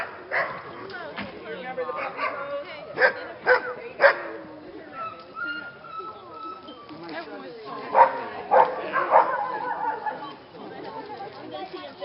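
Husky puppies at a homestead in Denali, Alaska yip, whimper and bark in short bursts near the microphone, while several people talk and chatter around them.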